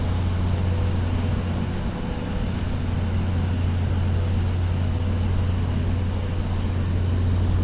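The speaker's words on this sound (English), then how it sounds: "Boy, that truck is loud." A loud truck rumbles along a city street near the White House, a heavy, steady low engine drone that stays close and constant, with no voices over it.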